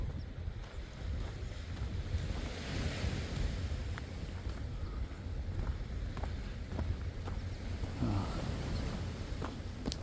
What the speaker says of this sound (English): You can hear the water, the waves. Ocean's right there.